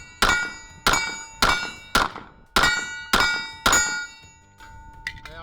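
A 1911 pistol fired at steel targets: seven sharp shots in a quick, fairly even rhythm, each with a ringing metallic clang that decays before the next, then a fainter ping at the end.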